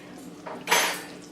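A wooden spoon scrapes and knocks against a pot while a whole bag of cheese is stirred in for chicken fettuccine Alfredo, giving a short, faint clatter with one louder scrape.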